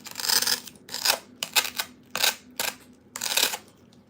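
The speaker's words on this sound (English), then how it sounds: "be very careful with your scissors" Scissors cutting through foam in repeated crisp snipping strokes, about six close, fairly loud cuts in an uneven rhythm with short pauses between them, no talking.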